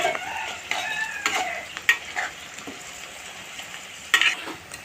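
Onions turning reddish fry in a pan, a soft hiss under a run of irregular stirring scrapes and clinks, close with a couple of sharper strokes.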